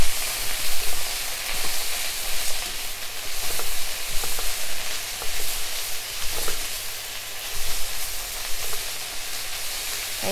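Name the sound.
cabbage being stir-fried in a pan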